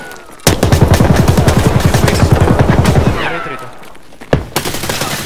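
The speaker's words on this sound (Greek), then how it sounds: "Δεν ακούς τις σφαίρες." Automatic gunfire in Escape from Tarkov: a loud, close burst of rapid evenly spaced shots lasting about three seconds, then a pause and a few more single shots.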